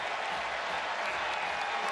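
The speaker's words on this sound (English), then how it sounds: "the crowd here on the Plains enthusiastically cheering" An enthusiastic college football crowd of about 87,000 on the Plains at Auburn, during Arkansas at Auburn in 2016, cheers and claps in a sustained, dense roar heard from within the stands.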